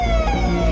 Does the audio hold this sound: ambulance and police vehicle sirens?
yes